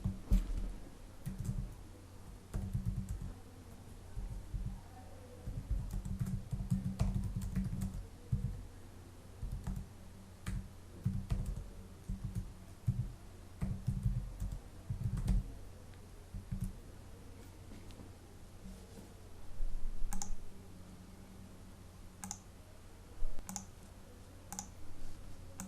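Typing on a computer keyboard, quick runs of soft close clicks and taps in uneven bursts with short pauses between, fairly quiet overall.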